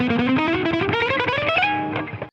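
Short distorted electric guitar shred lick, a rapid ascending scale run of picked notes climbing steadily, loud and close, ending on a held high note with no talking.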